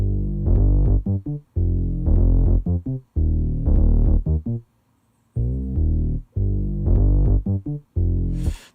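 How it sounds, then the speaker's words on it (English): A muted, soft-attack bass line loops through a loud electronic track in production, repeating in short rhythmic phrases with brief gaps and a noisy burst at the end, with no talking. "Problem is that there's not much of an attack on it and it is quite muted."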